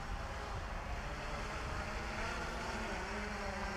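A FoxTech H-Wing VTOL drone flies nearby with a steady, loud whirring motor and propeller drone, a continuous even roar with no pauses or talk.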